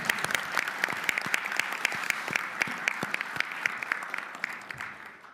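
Audience applause at a national tourism strategy meeting in Korea: a sustained round of clapping with crisp individual claps standing out, moderately loud and continuous before fading slightly at the close.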